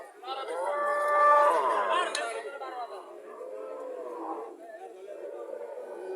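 A double-bodied Friesian dairy cow with a calf, giving about 18 to 20 litres of milk a day, lets out a drawn-out moo near the start, followed by softer lowing and background chatter.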